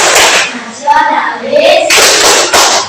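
Children clap in rhythm during the Tepuk PPK classroom chant, with bursts of brisk claps between stretches of chanted voices, close and loud.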